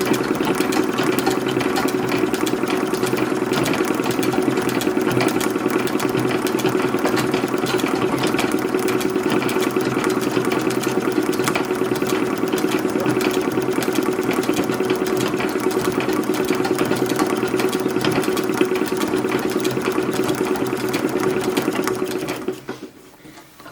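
A sewing machine runs steadily and loudly for nearly the whole span, stitching a bustle skirt's back lining over a side seam for an 1880s late bustle skirt, then stops abruptly at the end.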